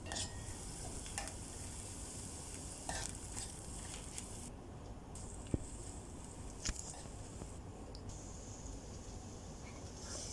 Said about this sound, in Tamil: அதை வதக்கிக்கலாம். கருவேப்பிலையும் நம்ம சேர்த்துக்கலாம்.